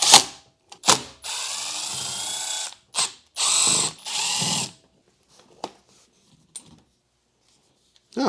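Hand ratchet working loose 14mm bolts on a 2000-05 Lexus GS430 seat, heard as bursts of rapid clicking of a second or so each, separated by pauses and a few isolated clunks, close and alone.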